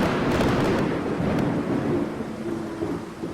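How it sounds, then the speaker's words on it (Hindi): Deep thunder rumbles under steady heavy rain, a dense wash of noise that swells and slowly eases. "बादल जोरों से गरज रहे थे और बारिश भी होनी शुरू हो गई थी"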